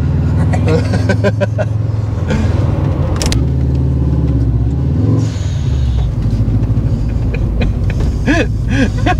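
A Subaru Impreza GT Turbo engine revs and accelerates hard with rising and falling whine and rumble, while people talk over it inside the car.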